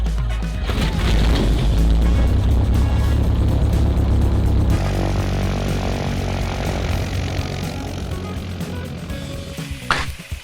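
A Cessna 172 propeller engine roars loudly and steadily at close range in flight, its drone shifting in pitch partway through, with no talking.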